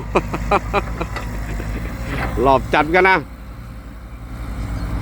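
A 160 hp Nissan diesel engine on paddy-field leveling equipment runs at a steady low drone, heard beneath someone speaking close to the microphone.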